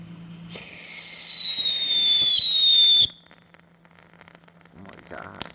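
An Astra Unicorn firework fountain erupts in a steady loud hiss for about two and a half seconds with a descending whistle, then cuts off abruptly, leaving faint crackles and a brief voice.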